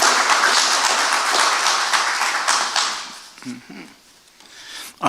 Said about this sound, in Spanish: Forte aplauso para o senhor Vladimir Wolf.